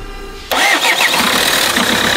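A repaired car's engine cranks and catches about half a second in, then settles into a loud, steady running rumble close by.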